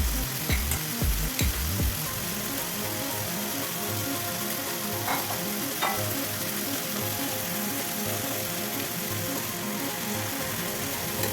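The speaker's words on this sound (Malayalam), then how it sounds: "എന്നിട്ട് വീണ്ടും ഫ്ലിപ്പ് ചെയ്തിട്ടിട്ട് ഫ്രൈ ചെയ്തെടുക്കണം." Chicken pieces frying in a pan give a loud, continuous close-up sizzle, with a few knocks and clatters of handling at the start.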